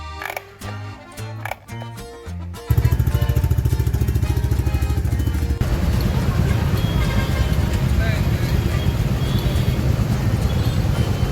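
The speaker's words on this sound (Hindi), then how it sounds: "इसका क्लच ना ये बहुत टाइट हो जाता है। देखिए साउंड कैसी आ रही है।" Motorcycle engine with a very tight clutch runs close and loud after a few seconds of quieter, choppy sound, then holds a steady, rough, droning note to the end.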